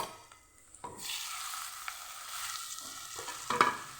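Tomatoes sautéing in a pan for bitter gourd curry, a soft sizzle that swells after a second, with occasional spoon stirs and clinks, moderately quiet and without voices.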